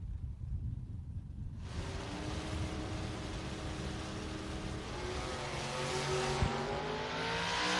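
Drag race cars at the FRBR Coastal Clash launch from the starting line, going from near silence to a sudden loud engine roar. The roar holds as a rising, sustained drone with climbing engine tones, and no one talks.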